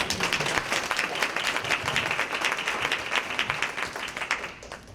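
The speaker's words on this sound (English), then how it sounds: "I think you need to give them a round of applause again." Audience applause at a grandparents raising grandkids annual luncheon, a steady dense wash of clapping from a crowded room that holds evenly for about five seconds and does not fade.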